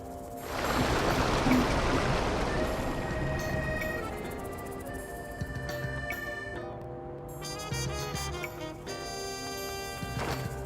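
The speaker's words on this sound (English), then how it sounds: "Look, all the water is draining through the sewers." Water rushing and draining through sewers in Pokemon Legends Z-A, a broad wet swell that builds early and then settles into a steady flowing wash, overlaid with bright tonal game music that runs throughout.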